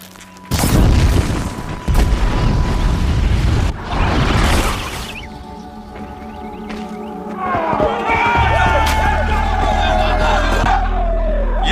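A loud, close explosion bursts from a burning arrow striking its target in a video game featuring Aloy, with a second boom, then roaring flames and crowd-like battle noise and rising machine cries behind.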